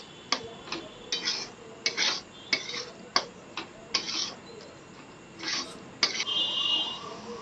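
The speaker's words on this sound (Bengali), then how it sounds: "এবার দিয়ে দিচ্ছি রেড চিলি টমেটো সস, দিয়ে ভালো করে আবারও কষে নিচ্ছি" Spices and red chilli tomato sauce stirred in a pan while cooking mutton liver curry, heard as a series of soft scraping, rubbing strokes at an irregular rhythm, close and fairly quiet, with no talking.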